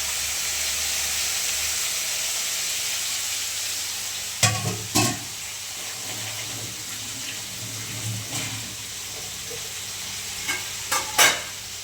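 A small amount of hot oil sizzles in a steady hiss for frying chicken, broken by a few sharp clinks and knocks of a utensil against the pan.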